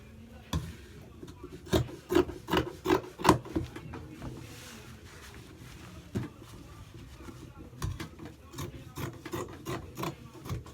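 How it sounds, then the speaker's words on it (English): Scissors cutting excess fabric while sewing a bubu gown from Ofi fabric: repeated crisp snipping and rasping strokes in uneven bursts, close by, with faint background noise between cuts. "So now I'm going to cut out the excess here now."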